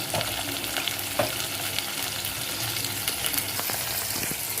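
Onion frying in a pan for a quick paneer pulao, with a steady close sizzle broken by stirring scrapes and clinks throughout, no voices.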